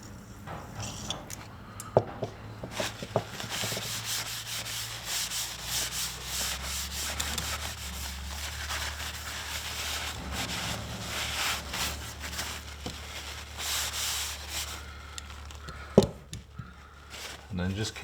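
Steady hand rubbing of a BSA Cadet Major air rifle with 3-in-1 oil during a cosmetic refurb, a continuous close scrubbing sound with faint clinks and a low background hum throughout.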